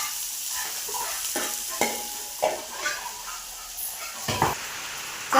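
Okra sautéing in a pan with salt, turmeric, green chilli and garlic, a soft sizzle under repeated spatula scrapes and stirring knocks, no voices.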